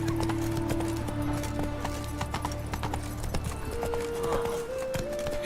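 Galloping hooves of a horse in The Witcher 3 drum in a quick, steady clip-clop close by over sustained game music, with a short whinny-like sound mixed in.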